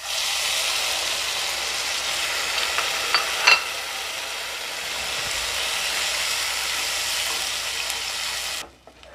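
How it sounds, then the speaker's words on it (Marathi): Tomato paste frying in oil with garlic and green chili in a home kitchen, a steady broadband sizzle with light stirring scrapes and a brief clink near the middle, ending abruptly near the close. "आता टोमॅटोची पेस्ट घालायची आहे।"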